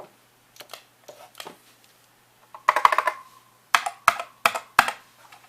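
Keys pressed on a Macintosh 512k keyboard, sparse clicky taps at first, then a few quick clusters of louder, sharper keystrokes separated by short pauses.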